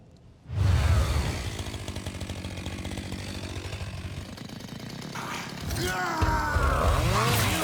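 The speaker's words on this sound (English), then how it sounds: "Chainsaw sword." A chainsaw sword revving in the Warhammer 40,000 video game Rogue Trader, a loud, harsh, sustained mechanical buzz that starts abruptly and surges again near the end, with some game sounds layered over it.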